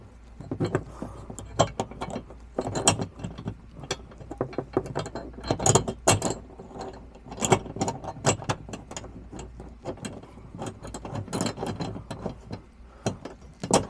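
A bolt spun and tightened into a steel mid deck shelf bracket in an INEOS Grenadier, a close run of rapid metallic clicks and ratcheting rattles with a few louder clanks, without talk.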